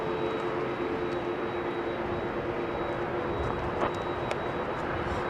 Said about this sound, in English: The ATR is the current aircraft that can go back.